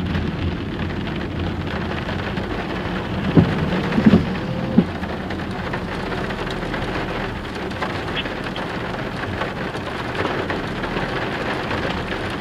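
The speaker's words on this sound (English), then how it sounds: "Forgot that it's raining and storming." Steady, heavy rain pours down during a thunderstorm, making a dense, continuous hiss. A few brief louder knocks and rumbles come through, and no one speaks.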